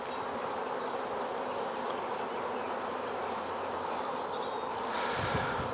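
Honeybees from a queenless colony swarm around an opened National 14x12 hive during an inspection, a steady close drone of wings with occasional higher whines as single bees pass near, swelling slightly near the end.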